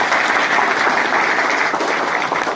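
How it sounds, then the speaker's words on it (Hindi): Loud, steady applause from a group gathered for a National Safety Day event, dense clapping sustained for nearly three seconds with no talk over it. "आओ, जोरदार तालियां सबके।"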